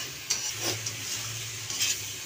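Spice paste and potatoes fry and get stirred in a pan, giving a steady close sizzle with a few scraping strokes of the spoon.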